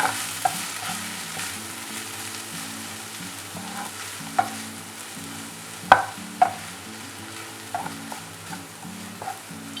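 Idli pieces tossed with tomato masala and chopped coriander in a pan, with a spoon scraping and clinking against the metal in sparse, irregular taps over a soft sizzle and steady background music.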